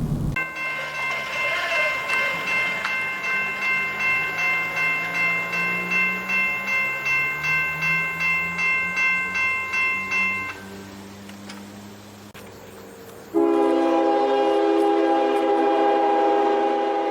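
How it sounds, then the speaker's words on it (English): A CSX freight train on the Sand Patch Grade in Pennsylvania sounds a Nathan K5LA air horn, with sustained chime tones under a pulsing railroad crossing bell, a short lull, then a second loud, sustained horn blast. "the unmistakable sound of a Nathan K5LA air horn could be heard echoing"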